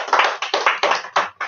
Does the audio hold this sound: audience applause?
yes